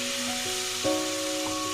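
Mohonbhog fries in ghee with a soft, close sizzle, joined by a steady tonal hum and one brief stir partway through.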